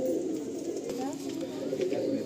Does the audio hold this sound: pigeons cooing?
yes